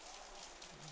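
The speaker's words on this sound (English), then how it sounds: "The rain is easing up, still coming down, and there are some puddles on the field" Steady rain falls on a baseball field during a game broadcast, a soft, even hiss of drops and patter with no voices.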